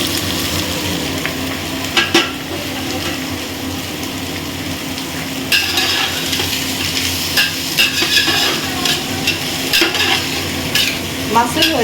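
Onions frying in a pan, with a continuous sizzle and intermittent scraping and stirring clatter of a utensil against the pan, close and fairly loud.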